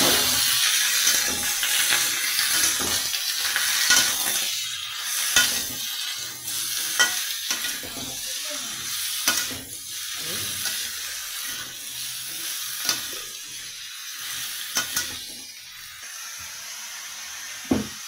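Chopped bottle gourd with shrimp, cumin and bay leaf sizzles steadily in a wok while a spoon scrapes and stirs it in repeated clattering strokes, close and loud.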